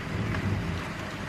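Steady storm rain pours down outside a house on a dark day, with a low rumble of thunder beneath the continuous hiss, close and fairly loud with no voices.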